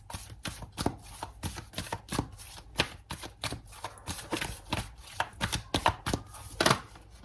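Tarot cards are shuffled in a quick, even patter of soft riffling slaps and taps at close range, with no voices over it.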